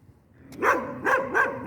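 A dog barks at close range in three loud, quick bursts after a brief lead-in, with no talk over it.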